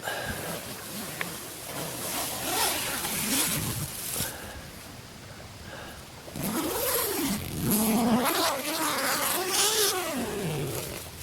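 A zipper runs closed on a tent fly at a beach campsite, drawn in several short, uneven pulls that sound close and moderately loud.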